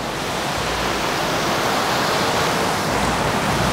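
A waterfall in Dak Lak province, Vietnam, roars as a loud, unbroken broadband rush of falling water, constant and close with no voices.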